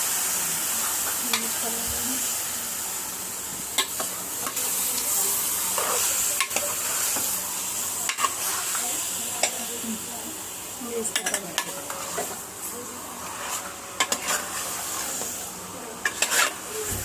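Chicken sizzles in a pan with fried ginger and garlic for a korma, making a continuous frying hiss broken by frequent spoon scrapes and clinks against the pan.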